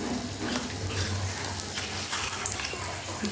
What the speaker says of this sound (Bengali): এবার কড়ার মধ্যে কাঁচা লঙ্কা দিয়ে দিয়েছি